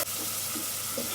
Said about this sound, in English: Add 1 teaspoon of chili powder, half a teaspoon of turmeric powder. Saute it together